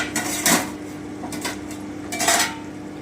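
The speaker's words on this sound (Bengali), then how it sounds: "আমি আবারও ঢাকাটা তুলে নিচ্ছি" A metal lid lifted off a cooking pot of potatoes simmering in a spiced egg curry with cauliflower, giving a few clinking metallic knocks spread over a few seconds, close and fairly clear, with no talking.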